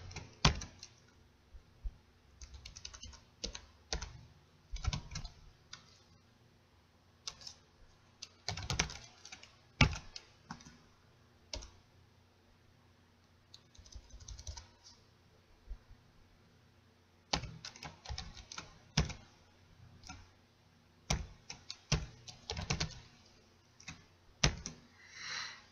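Fingers type on a computer keyboard in quick, irregular bursts of close clicking keystrokes with short pauses between them, quiet overall with no talking.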